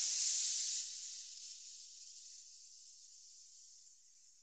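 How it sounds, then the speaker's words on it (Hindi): A pressure cooker hisses as food cooks, a steady high-pitched jet of steam that is loudest at first and then settles into a fainter, continuous hiss heard alone. "ये खाना बनने की आवाज थी कुकर की"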